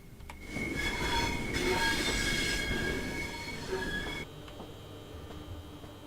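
Class 66 train rolling on the Southeastern High Speed route in Train Sim World 3, a loud rumbling run with squealing wheels and tonal whine, easing to a quieter steady rumble toward the end.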